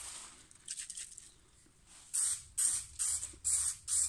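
An aerosol spray can is used on a slim-line kitchen worktop job, giving short hissing bursts: faint puffs at first, then five loud sharp sprays in steady rhythm, close by with no talking.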